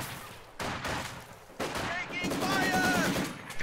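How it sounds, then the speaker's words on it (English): Machine gun fire from an MG emplacement covering an area in Company of Heroes 2, heard as sustained rattling bursts mixed with other battle noise, with speech-like voices over parts of the mix. "Got an MG covering this area."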